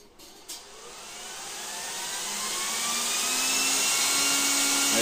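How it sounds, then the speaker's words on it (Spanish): Fan of a ZASDAR oil-free air compressor spinning up after a click, its whirring hum rising steadily in pitch and loudness as it comes up to speed. "Empezará a trabajar el ventilador."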